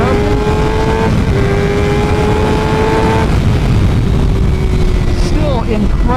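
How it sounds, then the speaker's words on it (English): Suzuki GSXR 750 sport motorcycle fitted with a 16-tooth sprocket, engine screaming at wide open throttle with rising pitch through gear changes, loud and continuous under heavy wind rush. "Partial throttle, wide open."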